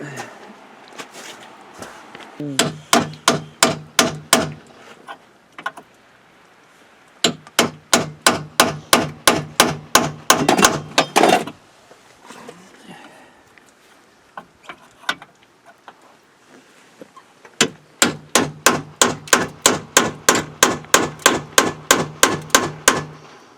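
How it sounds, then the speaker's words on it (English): A chisel struck repeatedly with a hammer to punch the tops off, sharp metallic blows in fast rhythmic bursts of a dozen or so hits, separated by short pauses, loud and close. "I'm going to take a chisel. I'm going to punch the top of those off."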